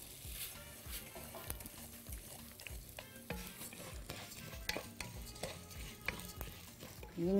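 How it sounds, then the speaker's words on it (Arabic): Vermicelli frying in a pan, stirred briskly, with a steady close sizzle broken by repeated scraping strokes of the spoon and no talking. "هاخد احمر شويه شعريه"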